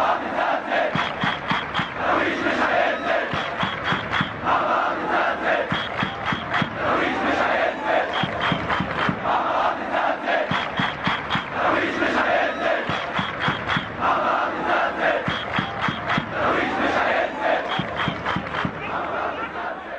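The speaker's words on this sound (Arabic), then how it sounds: "كان هتاف داعم للاسماعيلي نسمعه" A large stadium crowd of football fans chants in loud, rhythmic unison in support of Ismaily, with steady claps punctuating the chant throughout.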